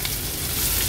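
Onion dropped into a hot spice tempering of garlic and asafoetida in oil, a loud, dense, continuous sizzle heard up close with no talking.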